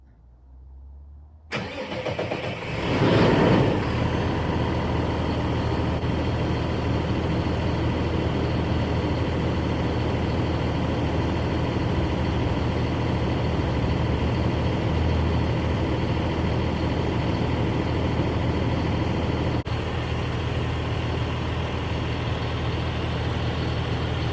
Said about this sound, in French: comme on entend rugir tranquillement ce moteur de 165 chevaux